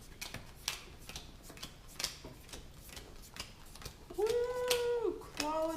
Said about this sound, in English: Shuffle it back and draw 6 cards.